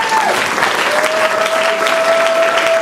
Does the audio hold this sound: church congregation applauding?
yes